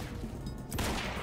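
Faint, muffled gunfire from the video game Quantum Break crackles in a brief burst behind a dense background wash.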